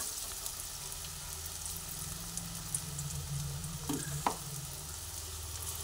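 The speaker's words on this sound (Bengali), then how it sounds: "সেই ছোলার ডালটাও এক এক করে তেলের মধ্যে দিয়ে দিচ্ছি" Taro and chana dal paste fries in oil with a continuous soft crackling sizzle, plus a brief knock partway through, and no one speaking.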